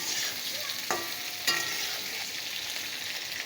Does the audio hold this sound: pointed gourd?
yes